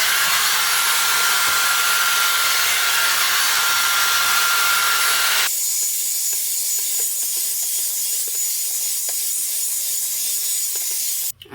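Dyson Airstrait hair straightener blowing a steady, loud airflow hiss that drops to a quieter, thinner whoosh partway through as it runs on cool mode, with a brief clunk at the very end.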